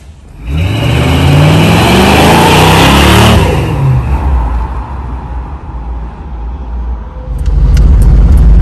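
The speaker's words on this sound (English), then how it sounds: "It is a nice running, driving pickup." A 1957 Chevrolet custom pickup accelerates onto a highway on-ramp, its engine revving up loudly and close, then settling into a steady cruising roar with road noise.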